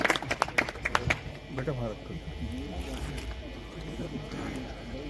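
Scattered audience clapping greets a guest at an Urdu poetry recital, a brief burst of claps at the start that fades quickly as a voice talks over it.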